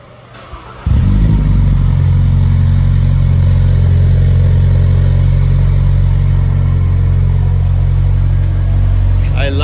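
A Toyota GR86 10th Anniversary Special Edition cranks and fires up in a quick start, then settles into a steady, loud, close idle that holds evenly for several seconds.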